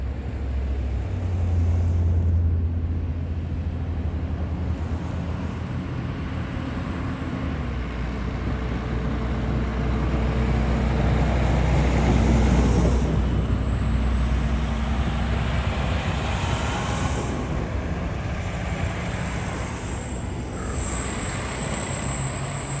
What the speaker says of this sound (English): So we've got a convoy of snow plows here in Port Coquitlam.